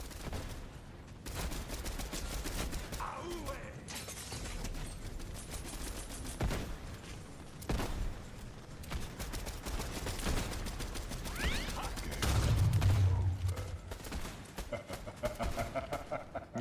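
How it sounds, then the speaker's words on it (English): Rifle gunfire in a video game sounds as repeated sharp shots and dense volleys over busy game noise, with players talking over it. "Get headshots with the rifle."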